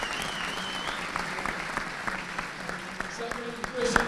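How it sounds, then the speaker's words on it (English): Audience applause after a schools rugby senior cup final, steady dense clapping filling the whole stretch with some crowd noise and voices underneath. "so big round of applause for them"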